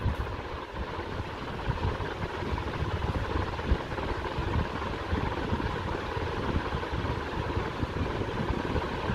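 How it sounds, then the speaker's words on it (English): A ceiling fan running at full speed: a steady, broad whooshing rush of moving air with a faint rhythmic flutter from the blades, constant and close, with no talking. "at full speed, you do hear the flutter from those blades"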